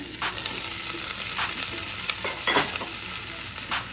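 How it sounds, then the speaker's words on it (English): Steady sizzling of onions frying in a hot pan with garlic, carrots and celery, occasional louder crackles and stirring scrapes, close up and continuous. "We're gonna put our onion in. You guys hear that? Hear that sizzle?"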